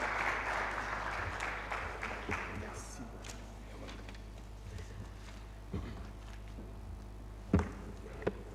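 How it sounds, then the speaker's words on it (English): Audience applause for a panelist called to the floor at an investments conference, a loud burst of clapping that fades over the first few seconds into quieter room noise with scattered taps and knocks. "Round of applause for David as it comes."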